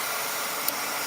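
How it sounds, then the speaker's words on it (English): An embossing heat tool blows hot air in a steady, even hiss of whooshing noise, close and unbroken for about a second. "This heat tool is a embossing tool"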